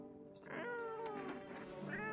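Cat in the horror game No, I'm not a Human gives a long, wavering meow and then a short rising chirp, close and prominent against a quiet game background.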